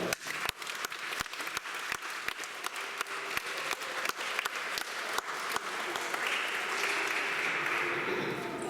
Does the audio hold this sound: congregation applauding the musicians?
yes